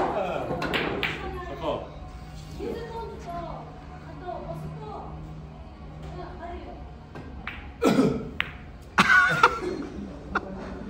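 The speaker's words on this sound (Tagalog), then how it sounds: "Gamutin mo ubo mo." A person coughs a few times, with short harsh bursts near the end, amid casual conversation and laughter.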